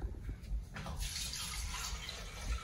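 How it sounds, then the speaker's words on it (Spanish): A little water is poured into a small blender holding tomatoes for salsa, a steady close splashing pour that runs the whole time with no talk over it. "Le voy a echar poquita agua, miren."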